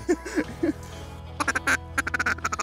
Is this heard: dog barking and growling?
no